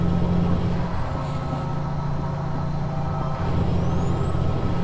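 Heavy truck engine in American Truck Simulator, a steady, loud low diesel drone and rumble holding throughout with a faint high whine rising at the ends, heard alone.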